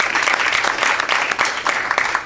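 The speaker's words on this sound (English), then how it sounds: "we should give a big clap, a big applause" An audience claps at a community tribunal discussion with a new police chief, dense sustained applause that is loud and close throughout the short burst, with no speech over it.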